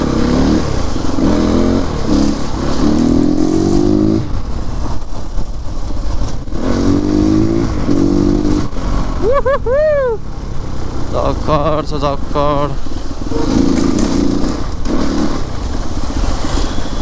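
A CrossX 300X motorcycle revs in repeated rising and falling engine sweeps, loud and close, while people talk over it.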